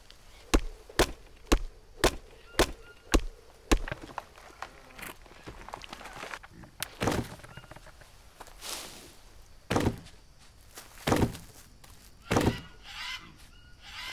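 Chopping wood in a survival game, in VR: a regular run of sharp, close chops at first, then slower, irregular heavy thunks with quiet rustling between, no talk.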